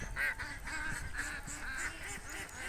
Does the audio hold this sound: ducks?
yes